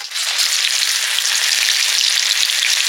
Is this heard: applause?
no